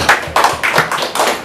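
Audience applause at a regional journalists' association (PWI South Sumatra) event, brief bursts of clapping from a group, fairly close and loud, in uneven waves over a short moment.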